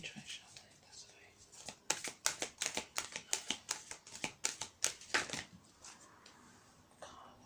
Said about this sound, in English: Let me try shuffling it this way.